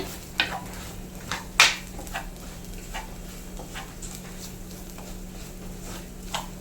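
Chilli powder with onion and tomato frying in oil for a Kerala-style vala fish curry, a low steady sizzle under a faint hum, with a few sharp spoon scrapes against the pan, close by.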